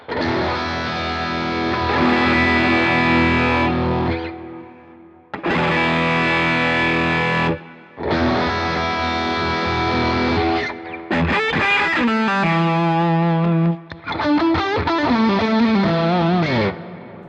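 Electric guitar on the bridge pickup, run through a Line 6 Helix Stadium XL or Neural DSP Quad Cortex with distortion and chorus, playing loud sustained chords in three bursts, then a rapid arpeggiated run with bends, alone without talk.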